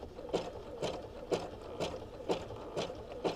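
A sewing machine runs a zigzag stitch while coiled fabric is twirled into a fabric bowl, its needle thumping in a steady rhythm of about two beats per second, close and moderately loud with no talking.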